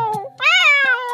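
A cat meows in one drawn-out, rising and falling cry, loud and close, with a brief softer sound before it and no talking.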